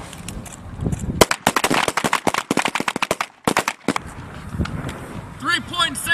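P320 M17 pistols fired during U.S. Army handgun training, a rapid string of many sharp, loud shots in irregular bursts with brief pauses, a shouted command heard over the firing range.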